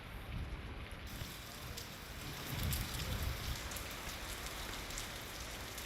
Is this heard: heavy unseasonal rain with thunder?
yes